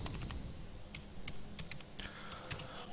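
Keys tapped on a computer keyboard while writing MATLAB code for image thresholding, a steady run of light clicks with a few sharper strokes over a low background hum.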